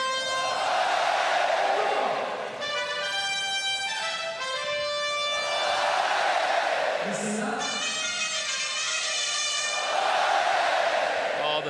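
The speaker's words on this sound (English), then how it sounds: "Oh, the pizzazz, the panache here of this French crowd, Gavin. What a crowd." A French crowd at a men's singles table tennis final in Montpellier roars and cheers loudly, in long sustained swells with chanting and whistling tones, continuing throughout.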